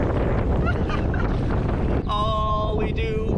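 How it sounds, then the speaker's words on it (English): Strong wind buffets the microphone with steady broadband rumble in Algonquin Park, and a brief tonal squeal rises over it partway through. "It's so windy!"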